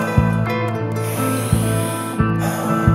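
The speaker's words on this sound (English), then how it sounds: "a powerful breath in through the nose and a sigh of relief out the mouth" Slow, deep breathing alone: a long airy inhale followed by a drawn-out sighing exhale, over a soft steady background drone.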